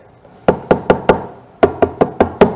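Knocking on a door in two bursts, four sharp raps and then five, close and loud, with no voices.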